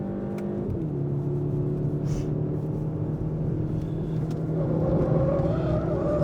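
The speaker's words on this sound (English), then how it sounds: "You can hear it on the tyre squeal as well." Tyres squealing as a car understeers and washes wide on a race track during a track tyre test, a sustained tonal whine riding over steady engine drone, close and continuous.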